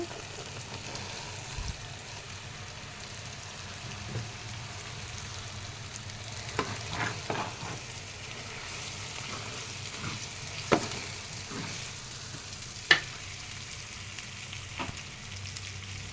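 Raw prawns fry with bottle gourd in a pan, giving a soft, continuous sizzle that stays in the background. Occasional light clinks and taps of a stirring utensil stand out a little, and no one speaks.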